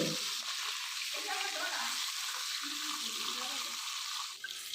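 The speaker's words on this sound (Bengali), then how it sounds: "এগুলো মাছের মাথা দিয়ে পাঁচ রকম সবজি চচ্চড়ি হবে তো সেই চচ্চর করার জন্য মাছের মাথাগুলো ভালো করে ভেজে নেবে এখন তেলে" Hilsa fish heads fry in hot oil in a wok, giving a continuous, even sizzle and crackle throughout with slight stirring noises underneath.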